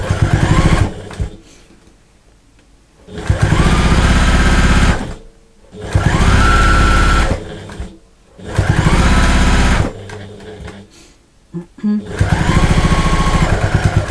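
Sewing machine top stitching a fabric hanging loop for a bathroom storage caddy, running in five steady buzzing bursts of a few seconds each with short quiet pauses between them, close and loud.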